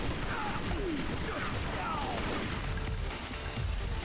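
Muffled enemy gunfire comes through a wall in the video game Tomb Raider: Legend, a dense, steady rattle of shots blurred together with mechanical clatter and game ambience for a few seconds.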